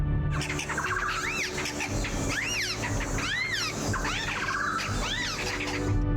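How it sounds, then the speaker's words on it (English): A mixed flock of birds forages in the mountains of Crocker Range, Borneo, several calling at once, overlapping sweeping chirps and squeaky notes in a busy, continuous chorus over a steady background hiss. "when you encounter a mixed flock like this, it's just a frenzy of activity"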